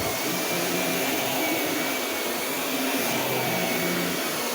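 Three vacuum cleaners run over a home floor at once, producing a loud, steady, unbroken roar with a broad whine that stays constant throughout.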